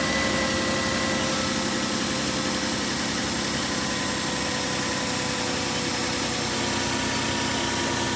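A car engine idles steadily and smoothly, a constant even hum and mechanical drone heard up close with no breaks for about eight seconds.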